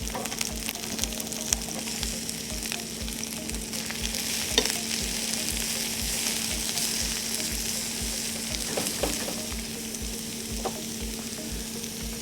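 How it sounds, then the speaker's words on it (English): Carrots hit a hot pan for a chef's glazed salmon dish with vegetables, giving a loud, steady frying sizzle with faint stirring scrapes throughout and no talking. "Then we're going to add our carrots."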